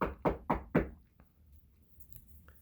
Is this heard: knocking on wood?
yes